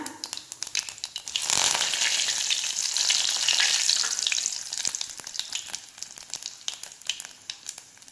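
Cumin seeds and curry leaves sizzle in hot oil for a Marathwada-style puri bhaji, a steady close crackling fry that swells louder midway then settles with scattered pops, no voices.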